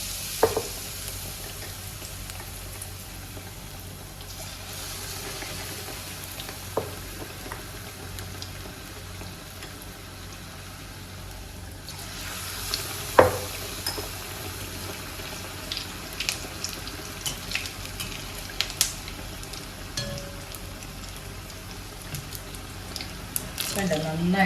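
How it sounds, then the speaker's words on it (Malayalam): Round eggplant slices in batter for bajji dropped into hot oil, a soft, steady bubbling fry with occasional clinks and taps, fairly quiet and close, with some background noise. "ആദ്യം ഞാൻ വഴുതിരിങ്ങയുടെ എണ്ണ വട്ടത്തിലുള്ള കൂടുതൽ വട്ടമുള്ള ആ പീസാണ് എണ്ണയിലിടുന്നത്"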